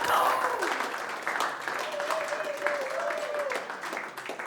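Applause rises from an audience greeting the arrival of a typist in a comedy bit, a steady wash of clapping with a voice talking over it throughout.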